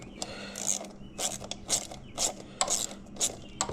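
A 7/16 ratchet wrench clicks in short bursts while tightening a bolt on a Hellcat Corsa performance air intake at the throttle body, several close, crisp ratcheting strokes with brief pauses between.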